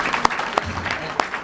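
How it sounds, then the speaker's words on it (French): An audience at a Congolese civil wedding ceremony claps together in a short, close burst of applause with a few sharp individual claps, while a voice is heard over it. "Donc on va seulement applaudir"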